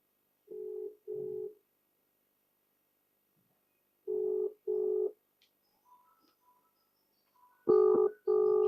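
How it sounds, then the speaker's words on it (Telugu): A telephone ringback tone plays in paired pulses separated by long silent gaps, heard through the line with faint background noise. "రింగ్ అవుతుంది"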